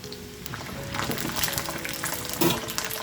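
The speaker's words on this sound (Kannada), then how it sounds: "ಮೀಡಿಯಮ್ ಫ್ಲೇಮಲ್ಲಿ ಇಟ್ಟು ಕೆಂಪಾಗೋ ತನಕ ನಾವು ಫ್ರೈ ಮಾಡ್ಕೊಂಡು ಬರೋಣ" Food fries in hot oil over a medium flame, a soft continuous sizzle with brief crackling bursts and light stirring clinks, fairly quiet and close.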